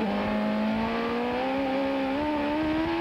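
A 1995 CART race car at Laguna Seca drones loudly as the driver works the throttle, a strong harmonic engine note holding steady and creeping slightly upward in pitch, with no talk.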